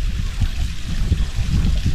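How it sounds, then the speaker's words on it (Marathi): Small hillside waterfall near a roadside shrine in a mountain pass near Pune, with water running and splashing down the slope in a steady, close trickling rush and low gurgling. "हे डोंगरावरून वाहत येणारं पाणी"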